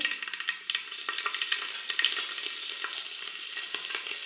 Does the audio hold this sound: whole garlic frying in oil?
yes